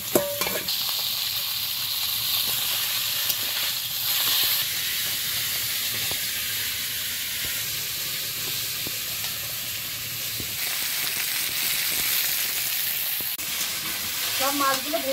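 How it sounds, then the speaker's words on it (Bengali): Small river fish, chanda and khoira with shrimp, coated in salt and turmeric, frying in a pan with a continuous loud sizzle and hiss, occasional clinks of a utensil. "সব মাছগুলো ভেজে নিয়েছি"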